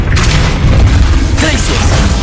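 A Confringo spell blast in Hogwarts Legacy booms heavily and without a break through a short stretch of loud combat, with a voice speaking over the rumble.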